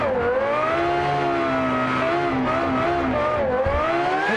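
Peaky stunt car engine in the Automation racing game, revving hard near the top of its range with a steady high-pitched harmonic whine that wavers slightly as throttle shifts, loud and continuous throughout.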